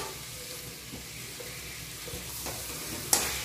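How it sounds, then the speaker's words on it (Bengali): Chicken and fried potatoes with spices are stirred in a pan with jackfruit, a soft continuous sizzle under scraping spatula strokes, ending in a sharp metallic clink. "মাংস দিয়ে আলু দিয়ে মশলার সঙ্গে আবারও ভালো করে মিশিয়ে নিচ্ছি"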